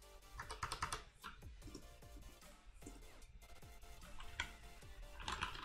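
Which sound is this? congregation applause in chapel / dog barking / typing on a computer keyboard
typing on a computer keyboard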